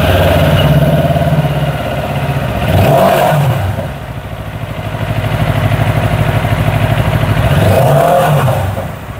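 A QJ SRT 700 motorcycle with a 72 HP engine runs at idle, a steady close mechanical throb that swells twice with light revs before settling back.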